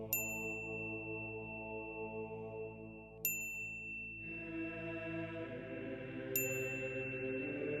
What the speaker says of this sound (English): The bell is rung 3 times.